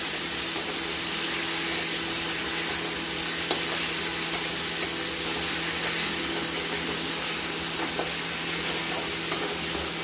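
Ginger and garlic paste frying in a pan, with a continuous, moderately loud sizzle and spatter, faint scraping and stirring ticks, and a low steady hum underneath.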